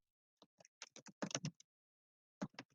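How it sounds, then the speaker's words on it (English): Keys on a computer keyboard are tapped in a quick burst of crisp, close clicks, then a pause, then a few more taps, faint and with no talk. "Betty, stop typing and we can hear you clicking"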